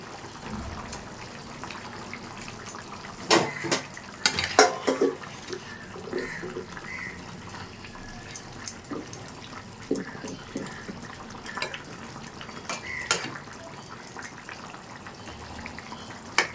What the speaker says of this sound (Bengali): ঝোলটা ফুটে গেছে, এবার মাছটা দিয়ে দিচ্ছি।